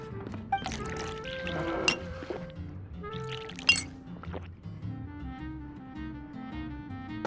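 Glasses clink and juice is poured in Genshin Impact, a few sharp bright clinks early on, then a steady trickle of liquid running into a glass over soft background music.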